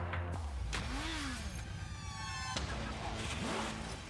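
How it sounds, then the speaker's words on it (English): Cars passing on a busy road, engines rising and falling close by with a siren-like tone sliding up and down, a steady dense traffic roar throughout. "And there's so much traffic."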